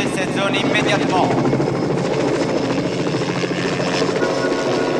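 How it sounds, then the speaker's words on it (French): A helicopter hovers close by, its loud, steady rotor thump and turbine whine filling the scene while people talk and shout over it. "c'est un hélicoptère."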